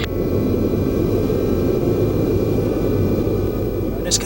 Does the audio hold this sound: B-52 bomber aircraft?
yes